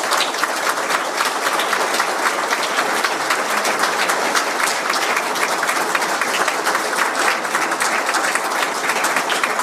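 An audience applauds at a book launch, a thick, even wall of clapping sustained at full strength for nearly ten seconds, close and loud with no voices over it.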